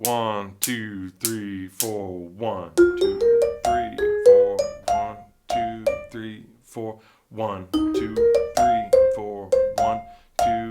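Vibraphone solo over four bars of a jazz standard: a run of bright, ringing struck mallet notes with sustained decay, climbing in phrases, while a nearby voice counts steadily over the playing.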